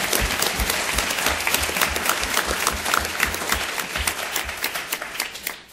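Sustained applause from an audience at a regional high school science bowl competition, dense steady clapping filling the hall without a break, with no talk over it.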